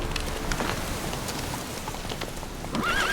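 A horse in The Witcher 3 video game, with a steady clip-clop of hooves and a brief whinny near the end over a continuous rain-like background hiss.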